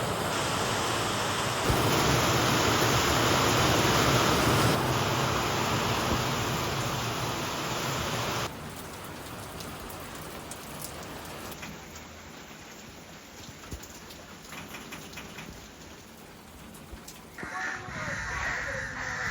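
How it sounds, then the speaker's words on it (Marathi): Heavy rain pours in a dense, steady roar, loudest at first and easing slightly later, with no clear voices over it. "हे बघू शकता कसला पाऊस यायला लागलाय जोरात"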